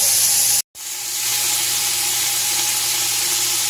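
Beef chunks searing in a hot pan for beef bourguignon, a loud, steady hiss and sizzle that cuts out for a split second and then swells back up to a constant roar.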